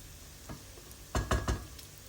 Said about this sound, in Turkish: Yarım yemek kaşığı tereyağı ekledim lezzetlendirmek için.